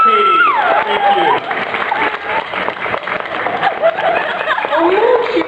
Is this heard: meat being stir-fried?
no